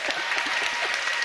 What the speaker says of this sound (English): There are only short people clapping.